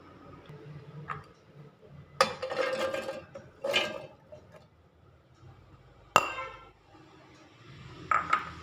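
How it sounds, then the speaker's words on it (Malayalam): Small chopped carrot pieces drop into a steel mixer grinder jar in a few separate rattling, clinking bursts spread over several seconds, close and fairly quiet, with no talking. "ഇത് നമുക്ക് ഒരു മിക്സിയുടെ ജാറിലേക്ക് ഇട്ട് കൊടുക്കാം."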